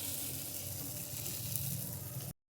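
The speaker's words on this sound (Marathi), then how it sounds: "तर आपण आता यात मोमोज आपले फ्राय करत आहोत" Veg aata momos crackle and sizzle steadily in hot frying oil, a dense, close hiss with no talk, ending abruptly into silence.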